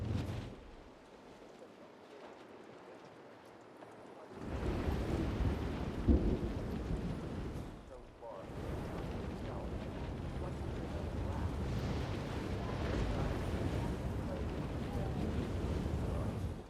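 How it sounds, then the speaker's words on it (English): A thunderstorm in the video game Hitman: World of Assassination, with heavy rain and deep rolling thunder surging in after a quieter stretch and rumbling on at close range with a brief lull, and a voice speaking now and then. "I love this storm."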